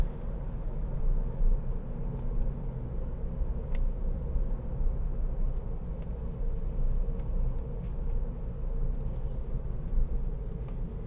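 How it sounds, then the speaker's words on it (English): A Ford B-Max 1.0 EcoBoost three-cylinder petrol engine pulling a 2016 hatchback along the road, heard from inside as a low steady drone under tyre and road rumble, with no talking. "This 3-cylinder engine, real punchy little engine, very economical"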